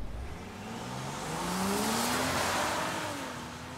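A Land Rover Defender 90 SUV engine revs up and accelerates, the rising whine climbing in pitch as the vehicle speeds away, loud and steady throughout.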